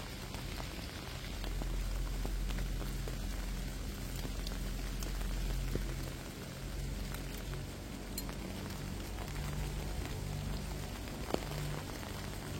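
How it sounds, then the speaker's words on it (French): Steady rain falls at the mouth of a cave near a megalithic giants' tomb site, a dense continuous patter with low rumble and occasional sharper drips, loud and unbroken with no voices. "il y a trop de pluie là"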